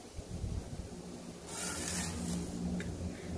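Sugar being stirred into water in a jar for a homemade bubble solution gives a close, gritty scraping and rubbing, with a brighter, louder stretch of stirring about halfway through and no voices.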